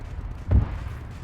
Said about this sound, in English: it sounds like the tanks are being destroyed